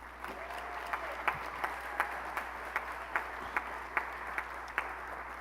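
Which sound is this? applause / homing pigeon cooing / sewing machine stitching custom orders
applause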